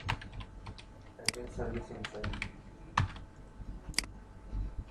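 Code being typed on a computer keyboard, a steady run of close, crisp key clicks with a few louder strikes, faint talk or room noise underneath.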